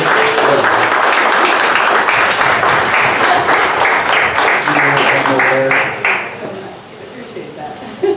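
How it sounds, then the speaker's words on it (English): A morning audience at a startup pitch event gives a loud standing ovation, dense clapping and cheering that thins out toward the end, with some voices mixed in. "give a big round of applause for Chelsea as she comes up"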